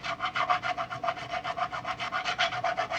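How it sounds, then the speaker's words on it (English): A crowning file rasps back and forth across squared-off guitar frets, a steady rapid run of about twenty-five even scraping strokes, close and fairly loud, with no talking. "if you use the crowning file on some of the ones that were really squared off, you can take off some of the edge here before getting to the sandpaper"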